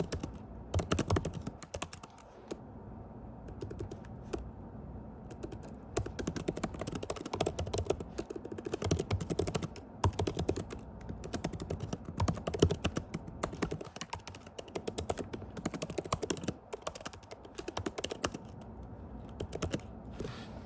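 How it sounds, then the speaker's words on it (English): Steady typing on a computer keyboard runs throughout, a quiet, dense patter of key taps in irregular bursts with brief pauses, close and with no voices. "That's why you see me typing."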